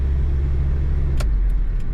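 Steady low engine rumble and road noise from a 1983 Toyota pickup truck driving through a neighborhood, heard continuously from inside the cab with a brief hiss partway through.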